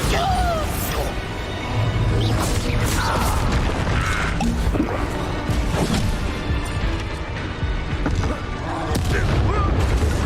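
Bombarda spell blasts in the Hogwarts Legacy video game: loud booming explosions and crashing impacts over dense combat noise and music, with a voice speaking.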